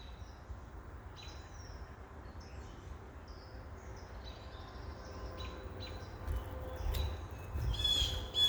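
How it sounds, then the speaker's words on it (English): A bird calls repeatedly in chirped phrases, faint and somewhat distant, heard over a low outdoor rumble on a wooded rural property, with louder rustling and thumps toward the end. "What kind of bird is that makes that sound?"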